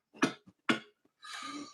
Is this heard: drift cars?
no